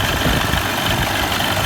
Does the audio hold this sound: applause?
no